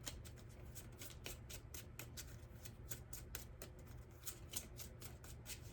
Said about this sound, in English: Let me pull one of these Nature Nurture cards.